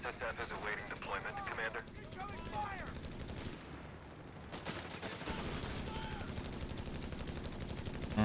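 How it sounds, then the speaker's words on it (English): Machine gun fire in the Company of Heroes 3 strategy game rattles in rapid bursts with a brief lull, while a commentator talks over the shooting. "The machine gun's just going to trade damage on these squads."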